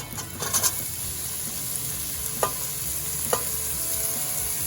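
Onion sautéing in a pot for cauliflower soup, a steady close sizzle with occasional light clicks of a utensil stirring against the pot.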